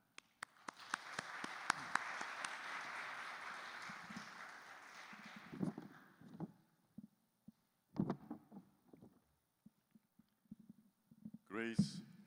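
Audience applause welcoming a guest speaker at a church gathering, a sustained wash of clapping for several seconds that fades out, followed by scattered footsteps and small bumps.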